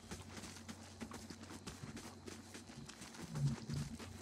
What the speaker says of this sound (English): We got some horses apparently.